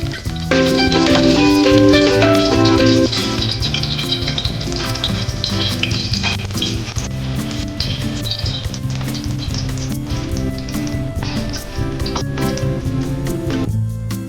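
Oil sizzles steadily as potatoes and carrots fry, a dense crackling hiss that continues throughout with occasional louder pops and stirring.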